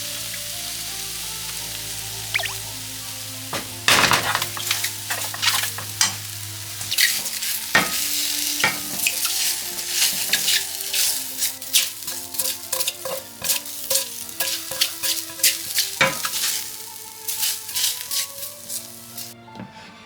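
Mushrooms frying in a pan for a pickled mushroom dish, giving a steady, close sizzle throughout with frequent scraping and clicking as they are stirred, the crackle fading slightly toward the end.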